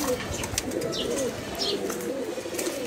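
Pigeons in a loft coo steadily in a low, continuous murmur, with a few sharper chirps and calls rising above it, all close by and without any talk.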